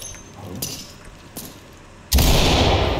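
A flashbang grenade in the tactical shooter Ready or Not going off with a sudden loud blast that turns into a sustained ringing roar, after a few quieter metallic clinks.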